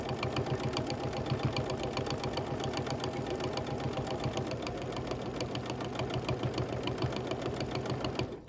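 A BERNINA sewing machine stitches rapidly and evenly while stippling a quilt with its presser foot raised slightly, a steady mechanical chatter running continuously at close range.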